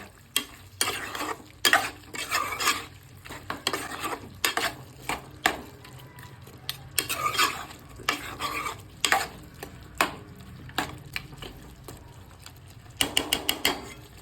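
Mutton curry being stirred in a pot, a spoon scraping and clacking against the metal in repeated uneven strokes over a soft simmer, close and fairly quiet, with no speech.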